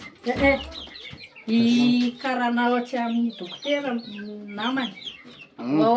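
Chickens cluck and squawk close by in a steady run of loud, drawn-out calls, with little pause between them and a farmyard feel.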